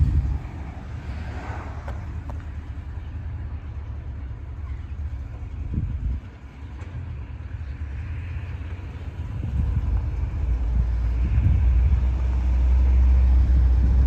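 A custom Chevelle rumbles along on a test drive, a low, steady engine and road drone heard from inside the car, swelling louder toward the end.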